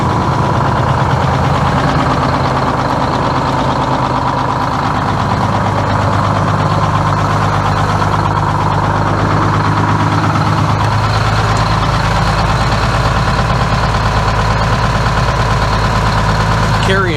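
A Detroit 6-71 diesel in an old International truck idles with a steady, dense rumble and mechanical clatter, loud and close throughout, holding an even beat with no changes in speed.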